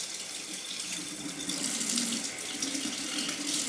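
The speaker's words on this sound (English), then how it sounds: "I need to get some more warm water so I can add it to my mixture." Warm water pours steadily from a kitchen tap into a sink while bread dough is being prepared, a continuous close hiss with no talking.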